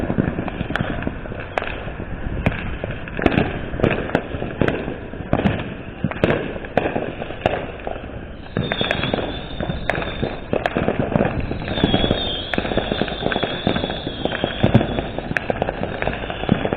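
Fourth of July fireworks pop and crack in repeated sharp bursts, some close and loud, others distant, over a continuous rolling background rumble, with no talk.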